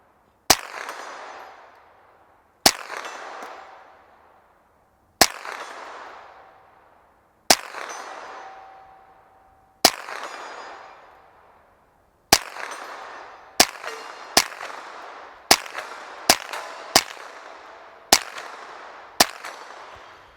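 Sharp, loud 9mm gunshots from a Ruger PC Carbine crack out one at a time outdoors, each followed by a decaying echo, starting at steady intervals and then coming faster toward the end.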